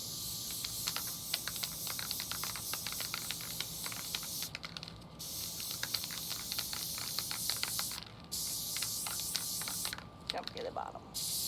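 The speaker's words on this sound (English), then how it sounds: "Lock tight spray adhesive. Make sure it's shaking up really good." Several short hissing bursts of Loctite spray adhesive come from an aerosol can, mixed with quick clicking and rattling, as a temporary glitter tattoo is made.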